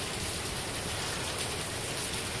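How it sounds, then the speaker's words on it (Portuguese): Heavy rain pours steadily during Hurricane Irma, a dense, unbroken hiss of water with no pauses and no voices. "a chuva também está bem forte"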